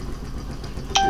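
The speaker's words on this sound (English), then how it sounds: "that is my phone dinging" Phone notification chime sounding once near the end, a short bright ding over a low steady background rumble on a farm.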